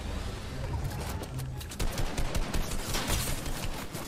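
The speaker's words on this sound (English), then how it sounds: "Who's shooting at me?" Gunfire in Fortnite crackles in rapid bursts of sharp shots, sparse at first and then denser and louder in the second half, with faint voices underneath.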